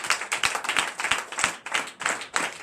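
Congregation at a Sunday church service clapping in a loose rhythmic pattern of sharp, close claps with some cheering mixed in, loud and continuous throughout.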